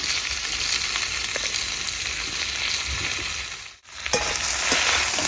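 Chicken frying with salt and turmeric, a loud dense sizzle filling the whole stretch, briefly cut to near silence before resuming with a sharp stir.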